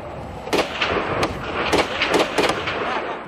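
Gunfire in a fight along the Iranian border, with several sharp, loud cracks at irregular intervals that echo against a rough background rumble.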